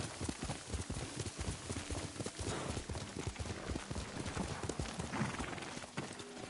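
A horse gallops hard in a samurai video game, fast rhythmic hoofbeats pounding close and loud throughout, with a neigh breaking through near the end.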